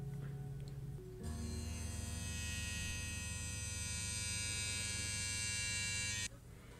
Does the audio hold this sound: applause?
no